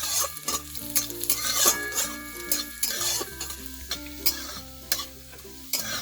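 Three or four chopped garlic cloves fry lightly in a little oil while being stirred, with a steady close sizzle, scraping stir strokes and a faint tonal hum underneath.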